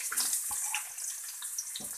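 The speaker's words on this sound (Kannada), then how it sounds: "ಈರುಳ್ಳಿ ಹಾಕಿ ಚೆನ್ನಾಗಿ ಫ್ರೈ ಮಾಡಿ" Onions sizzle and crackle in hot oil for a fish curry, a faint, steady hiss with scattered pops and no voice over it.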